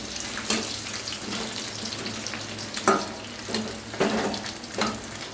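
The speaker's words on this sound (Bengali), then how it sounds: "এটাই মিডিয়াম আঁচে চিকেনগুলো আস্তে আস্তে করে ভাজা হবে" Chicken pakora frying in oil over medium heat, a steady dense sizzle with a few louder crackling bursts and stirring scrapes, close and continuous throughout.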